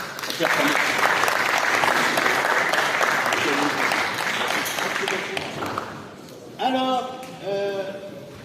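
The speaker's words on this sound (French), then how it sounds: "Nous allons l'applaudir à l'infini" Audience applause at a formal gathering, a steady dense clatter of clapping for about six seconds, then fading as a few loud voices and shouts break in near the end.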